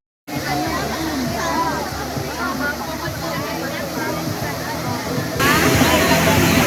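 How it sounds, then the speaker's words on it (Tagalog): Hidden waterfall at Lohas Park in Hong Kong pours in a steady, dense rush close by, mixed with the babble of a crowd and children's voices, growing slightly louder near the end. "Ito na yung falls, guys. Luhas Park, Hidden Waterfalls."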